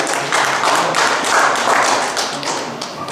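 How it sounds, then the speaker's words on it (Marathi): Audience at a poetry recital during a Marathi literary convention clapping in a steady, dense wash of hand claps that swells and eases across about three seconds, with no voices. "जोरात टाळ्या वाजवायचे"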